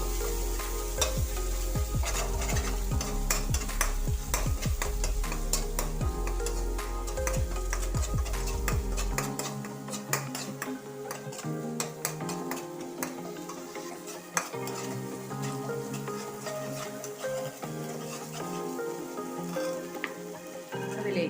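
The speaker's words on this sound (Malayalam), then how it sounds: "ഇനി നമ്മൾ ആ ചെമ്മീൻ മാറ്റിയ എണ്ണയിലേക്ക് തന്നെ ഇഞ്ചി വെളുത്തുള്ളി പേസ്റ്റ് ഒരല്പം ചേർത്ത് കൊടുക്കുക അതൊന്ന് മൂപ്പിച്ചെടുക്കാം" Ginger garlic paste sizzles and crackles in hot oil left from frying prawns, with a spoon stirring and scraping the pan, a loud steady frying hiss that shifts partway through.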